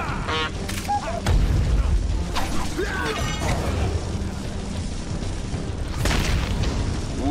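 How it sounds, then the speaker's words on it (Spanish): A bomb goes off in Batman: Arkham Asylum with a loud, deep boom amid clanking mechanical rattles and crashing debris, dense and close, with voices mixed in. "ahí viene la bomba, ahí viene la bomba"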